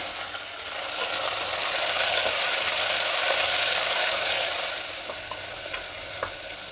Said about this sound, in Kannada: ಈಗ ಒಗ್ಗರಣೆಗೆ ಹಾಕಿರೋ ಐಟಮ್ಸ್ನೆಲ್ಲ ಸ್ವಲ್ಪ ಫ್ರೈ ಮಾಡಿದ್ದಾಗಿದೆ